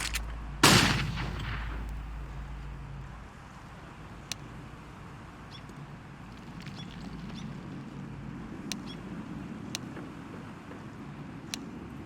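A flashbang grenade goes off in the video game CS:GO with a single loud, bright burst near the start. The blast decays into a low rumble, followed by faint scattered clicks and quiet background game noise.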